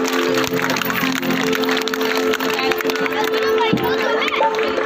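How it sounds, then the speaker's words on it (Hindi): Audience applause at a Bhagavad Gita discourse, a dense steady clatter of many hands clapping together throughout, with crowd murmur and a sustained tone running beneath. "जोरदार तालियों से स्वागत।"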